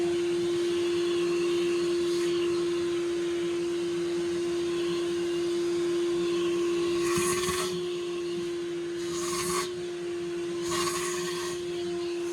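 An air compressor runs steadily during ATV tire repair work, giving a continuous motor drone with a strong hum, while short bursts of hiss break in a few times near the end.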